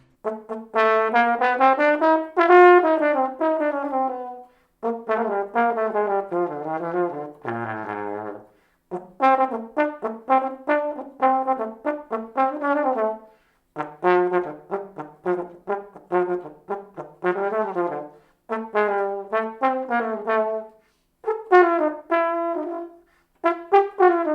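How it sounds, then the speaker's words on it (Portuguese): A valve trombone plays solo in a Brazilian band setting, running through several legato melodic phrases with rich, sustained brassy tones and short breath pauses between them, close and clear with no talking. "E então esse é o som do trombone de pífano."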